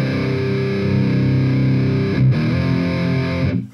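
A thick, high-gain distorted electric guitar chord in drop C tuning, through a Soldano SLO-100 amp simulation, rings low and loud, then a second heavy chord is struck and sustains before cutting off.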